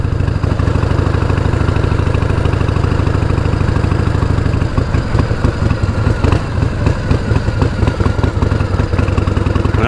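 A 1988 Harley-Davidson Heritage Softail with a sidecar runs loudly and steadily close by, a low, throbbing engine note that grows rougher and more uneven about halfway through as it revs, with no talking.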